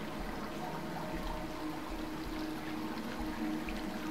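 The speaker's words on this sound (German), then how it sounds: "Das Wasser sieht toll aus, oder? Also gerade das fließende Wasser." Soft, steady flow of a stream in the video game Dear Esther, a faint continuous trickling wash of running water with no voices.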